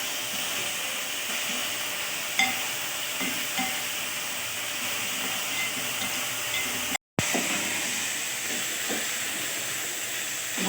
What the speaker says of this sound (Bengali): আর এই এখনো এই পেঁয়াজ দিয়ে এইগুলো ভাজা ভাজা হচ্ছে